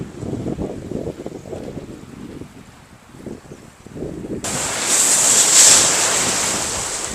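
Sea waves wash onto a clear sandy beach near Mubarak Village, Pakistan, first as low wind-buffeted rumble and then, from about four seconds on, a loud, close, broad hiss of surf that swells and fades; no one talks.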